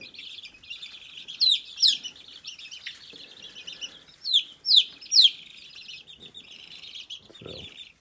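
Young chickens in a backyard flock give a run of high, sharp chirps and peeps in short bursts, fairly close and clear, with a soft low thump near the end.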